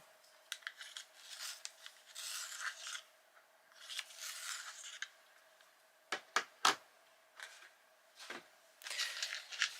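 A coloured pencil twisted in a small handheld sharpener, quiet scratchy shaving strokes in short bursts with a few sharp clicks, close to the microphone and faint overall, with no talking.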